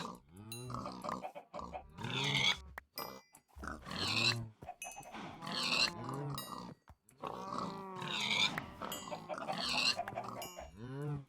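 Pigs in the Minecraft SkyFactory 3 video game grunt and squeal in repeated bursts through the scene, fairly close, with no one talking over them.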